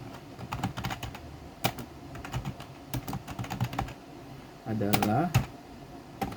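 Fast clicks of a computer keyboard as program code is typed, an irregular patter of keystrokes that is close and fairly quiet, under a soft voice speaking.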